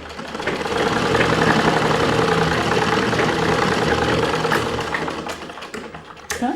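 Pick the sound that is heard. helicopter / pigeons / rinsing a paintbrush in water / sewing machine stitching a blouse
sewing machine stitching a blouse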